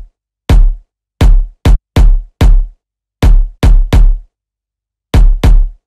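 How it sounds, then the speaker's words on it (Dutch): Punchy electronic kick drum samples thump in a sparse, syncopated beat, each hit deep and booming with a short decay, loud and alone with silence between them. "Ik heb hier een aantal kicks geselecteerd."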